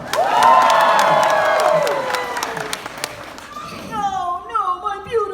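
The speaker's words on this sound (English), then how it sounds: "Everyone applauds slightly more." A crowd at a live DuckTales table read at a Disney fan fest bursts into loud applause and cheering, a dense roar of clapping that fades out, followed by voices talking.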